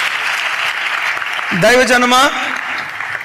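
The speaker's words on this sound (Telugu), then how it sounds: "గట్టిగా చప్పట్లు కొడుతూ స్తోత్రాలు చెప్దాం." A church congregation claps loudly and continuously, a dense wash of hand claps running throughout while a voice calls out briefly over it.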